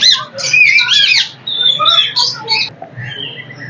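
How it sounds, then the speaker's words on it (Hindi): Shrill parrot squawks and chatter overlap in a lively burst at a zoo, close and loud, with several calls tumbling over one another. "जहाँ पे तोतों की आवाजें आ रही हैं"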